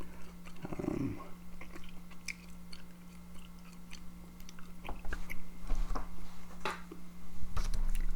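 Gum is chewed up close with wet, squishy smacks and soft crunches that come irregularly and get louder toward the end, with no talk.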